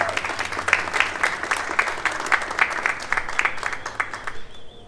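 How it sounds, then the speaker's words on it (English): Steady applause from an outdoor crowd at a flag raising for Transgender Day of Visibility at Reading City Hall, dense clapping carrying on for several seconds before tapering off at the end. "Can I get a round of applause for"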